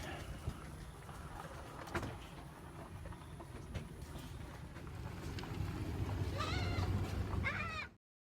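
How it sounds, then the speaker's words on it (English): Goats bleat in a few wavering calls near the end, over a steady low rumble of background noise. "The goats that have taken over the property."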